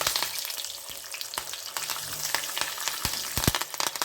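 Curry leaves sizzle and crackle in hot oil with peanuts, the hiss steady with sharp pops and spits through the end, and occasional stirring.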